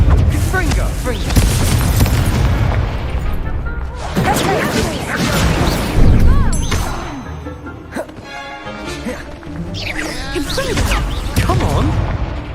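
Confringo fire spells in Hogwarts Legacy on PS5 go off as heavy booming blasts and crashes, repeated several times over a few seconds, loud and close, with a player's voice calling out over the explosions.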